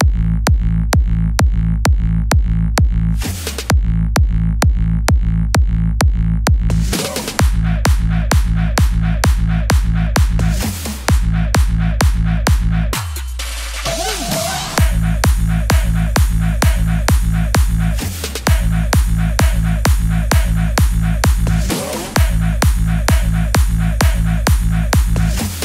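A full EDM drop drum groove pounds along with a heavy four-on-the-floor kick under tight percussion layers, loud and relentless, broken by brief fills and a short sweeping transition midway.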